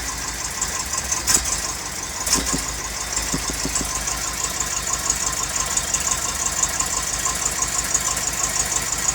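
A 1962 Mercury M700 V8, on choke with an electric fuel pump, cranks with a couple of sharp catches, then settles into a steady, knocking idle heard close up and alone.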